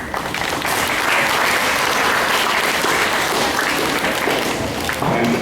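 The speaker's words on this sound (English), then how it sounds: "You deserve an applause." Dense, steady applause from a large group of school students gathered at a morning assembly, filling the whole stretch at an even, loud level with no voices breaking through.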